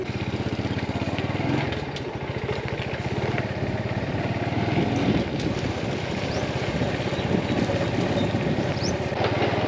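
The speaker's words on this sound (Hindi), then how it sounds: "ये हमने बाइक को किया स्टार्ट।" A motorbike engine runs continuously at close range on a hot village road in Sindh, Pakistan, a steady loud idle-like putter with a rough mid-frequency rumble and no talk over it.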